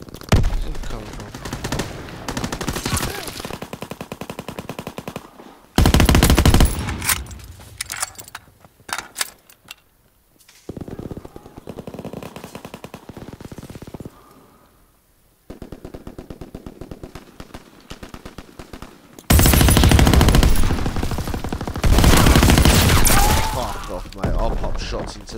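Gunfire in Call of Duty: World War 2 multiplayer team deathmatch: bursts of loud rapid automatic fire in long dense stretches, broken by quieter gaps and lone shots.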